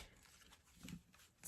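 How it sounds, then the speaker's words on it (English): A deck of tarot cards being shuffled by hand, close and quiet, with soft papery rustles and a slightly fuller riffle near the middle and again at the end. "Can I shuffle them this way?"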